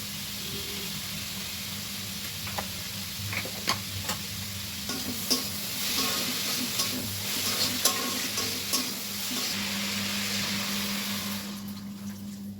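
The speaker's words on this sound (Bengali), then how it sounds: "সেগুলো একটু ভাজি করবো, তাই চিকন চিকন করে কেটে জিরে ফোড়ন দিয়ে বসিয়ে দিয়েছি" Thin-cut cauliflower stems frying in a pan with a cumin tempering, a steady sizzle with scattered crackles and occasional stirring scrapes throughout.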